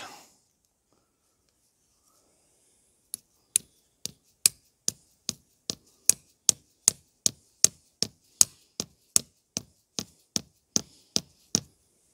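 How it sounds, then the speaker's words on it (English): A metal sap tap is hammered into a maple tree for syrup season with about twenty sharp, evenly spaced blows, close and crisp, after three seconds of near silence. "Now she's going to put in her tap."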